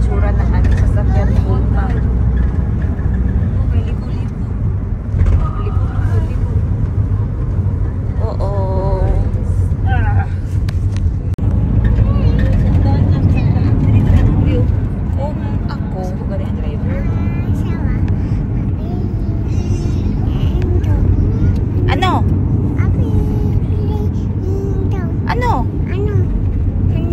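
Riding inside a vehicle on the road to Norala, a steady low rumble fills the cabin throughout, with intermittent voices talking over it.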